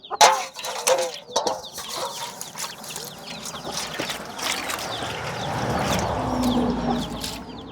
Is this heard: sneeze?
no